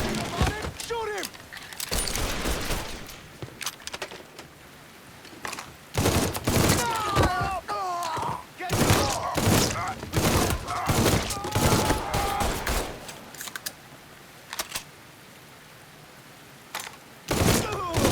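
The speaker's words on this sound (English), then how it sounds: "Fucker won't stop shooting!" Enemy gunfire rings out during a shootout in Mafia III, with bursts of rapid shots and single cracks scattered through the clip amid loud shouting voices.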